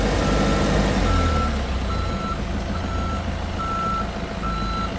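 A forklift reverses in a training yard, its warning beeper sounding about six evenly spaced tones over a steady low engine drone.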